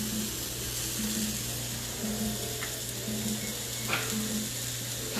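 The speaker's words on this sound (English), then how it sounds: "season my vegetables as they're sauteing" Vegetables sauté in a pan with a steady close sizzle, a low repeating hum pulsing underneath and a couple of brief clinks.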